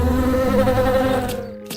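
In a 3D animated story, flies buzz in a dense, steady drone that thins out and stops after a little over a second, followed by a couple of sharp clicks.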